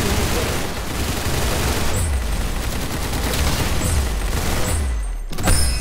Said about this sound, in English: I'm shooting at his body.